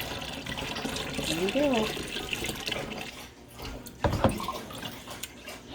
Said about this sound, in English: to be able to hold the funnel and pour with one hand